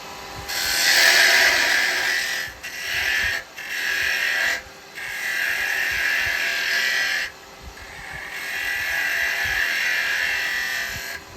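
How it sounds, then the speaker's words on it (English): A carbide parting tool cuts into wood spinning on a lathe, giving a loud, steady high-pitched whine that runs in long bursts broken by a few short pauses where the tool is lifted away. "So come in with my parting tool."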